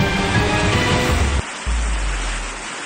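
Heavy rain and gusting wind from Typhoon Leon in Gonzaga, Cagayan, a loud steady hiss of downpour with a sudden drop and shift in the roar midway.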